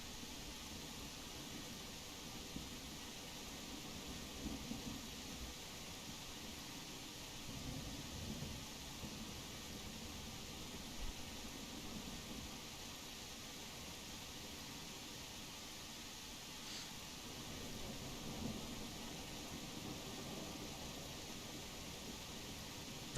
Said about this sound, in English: the rain is drowning everything out.